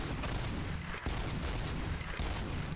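Rapid, continuous gunfire from the video game RoboCop: Rogue City, a dense, loud barrage of overlapping shots running throughout with a single brief gap near the middle.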